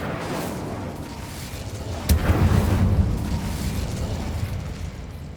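Incendio fire spell cast in the Hogwarts Legacy video game, a sudden fiery burst that swells into a rumbling roar and then fades under a steady background rush.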